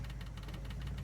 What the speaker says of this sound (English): It's just a 318 engine.